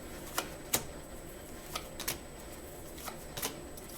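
Tarot cards are shuffled and drawn in a quiet room, giving a few faint, sharp snaps and soft riffling flicks spaced irregularly.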